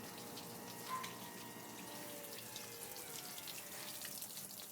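Water rushes steadily while a boat's outboard motor is flushed through, a continuous close hiss and splash with no breaks and no voices.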